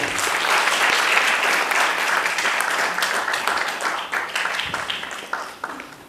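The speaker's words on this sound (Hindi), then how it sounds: "साथियों, जोरदार ताली अपेक्षित है।" A theatre audience at a stage play event claps loudly and steadily for a welcomed guest, a thick crowd applause that tapers off into scattered claps at the end.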